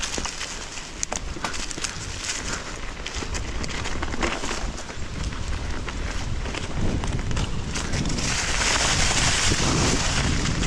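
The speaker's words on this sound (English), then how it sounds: "Jeez, that's some wind." Strong wind at a mountain bike park buffets the microphone in a loud, constant roar that grows heavier toward the end, with no clear speech over it.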